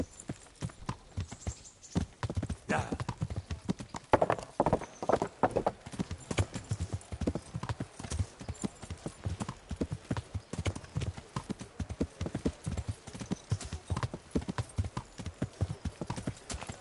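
A horse's hooves clip-clop in Kingdom Come: Deliverance, a loud, close, steady rhythmic clatter running throughout, with a brief whinny and a little talk.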